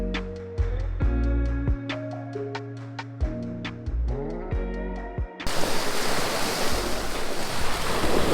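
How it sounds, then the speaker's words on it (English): Surf breaking on White Sands beach on Koh Chang, Thailand, a steady broadband wash that swells loud and close, preceded by a stretch of melodic music with plucked notes. "we thought we'd take you for a walk on the beach"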